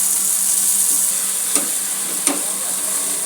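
Finely chopped tomatoes sizzle and fry on a hot tava for a soybean dish, giving a steady close hiss with two brief clicks of stirring.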